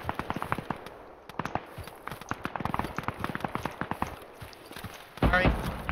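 Gunfire in the military video game Arma 3: a rapid series of sharp cracks and thumps through most of the stretch, followed by a heavier roaring blast near the end, with voices talking over radio between.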